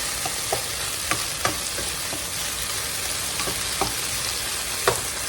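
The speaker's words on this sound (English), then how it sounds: "I just want to fry this up till it gets good and brown" Beef fries in a pan until brown, a steady, dense sizzle with a few sharp pops and spatters scattered through it, close and fairly loud, and no one speaks.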